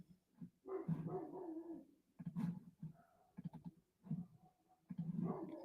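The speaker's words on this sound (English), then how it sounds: "He keeps on barking, then the other dog's going to bark down the street." A dog barks in repeated short bursts with brief pauses, fairly faint and somewhat distant, with no talking.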